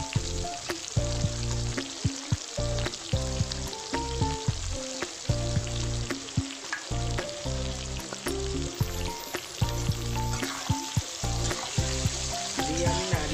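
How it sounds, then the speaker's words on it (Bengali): Potatoes fry in oil with turmeric and salt, giving a dense, continuous loud sizzle and crackle close by, with a steady underlying hum and no talking. "দিয়ে আমি নাড়াতে থাকবো যতক্ষণ আমার আলুগুলো যতক্ষণ ভাজা হচ্ছে"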